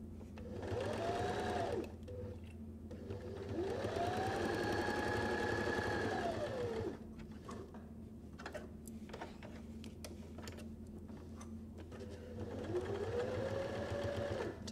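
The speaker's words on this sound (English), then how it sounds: "then just stitch all the way around that mask" A sewing machine stitches around the edge of a fabric face mask, its steady close whir running in long stretches with brief slowdowns and pauses between them.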